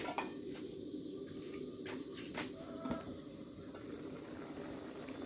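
A pot of liquid boiling on a gas stove while making laab with field crabs: a steady low bubbling hiss with scattered light clinks of metal and glass on top, no voices.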